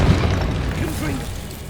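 A Confringo fire spell bursts with a deep, booming explosion in Hogwarts Legacy, a single heavy blast at the start fading into rumbling game noise, with a voice calling out over it.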